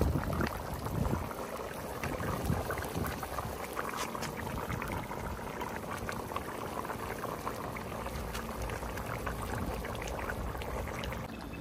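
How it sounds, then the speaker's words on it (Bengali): Meat curry simmering in a pot over a village wood-fired stove as potatoes go in, a quiet, continuous bubbling and liquid churning with faint crackle heard close up, no voices. "মাংস যখন মোটামুটি সিদ্ধ হয়ে আসলো, আমি এখন আলু দিয়ে দিলাম"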